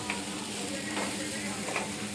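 Boiled food for bhel sizzling in a hot pan while being stirred with spices, soft scraping strokes over a steady frying hiss, fairly quiet and close.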